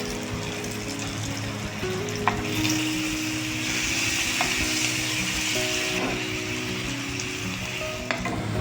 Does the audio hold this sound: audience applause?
no